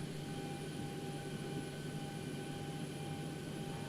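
Sustained broadband roar of Boeing 737-800 jet engines spooling at takeoff throttle in the X-Plane 12 flight simulator, steady and continuous with faint tonal whine lines, no talk.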